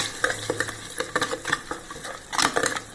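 Ground tomato paste with onion and garlic cooking in a pan, being stirred: soft sizzling under repeated scraping and clinking strokes of a spoon against the pan, close and moderately quiet.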